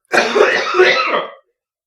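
One harsh, raspy cough bursts out close to the microphone, lasting about a second before silence.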